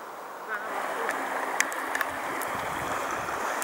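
Water of the Emmer stream runs steadily beside the Schieder reservoir, a soft continuous outdoor rush with a few faint brief ticks over it.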